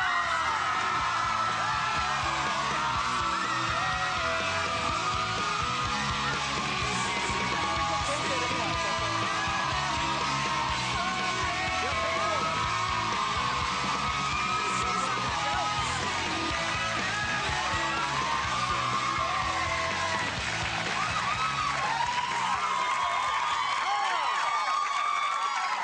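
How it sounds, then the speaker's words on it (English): A television studio audience at a live talk show screams, whoops and cheers loudly and continuously for a celebrity guest's entrance, a dense, steady roar of many voices. "Start your screaming now for Zac Efron!"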